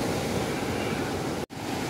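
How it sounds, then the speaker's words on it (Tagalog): Strong waves break at a beach resort at high tide, a loud continuous roar of surf that cuts out abruptly for a moment near the end. "High tide kasi ngayon. Kahapon na. Saka, malakas yung alon ng tubig."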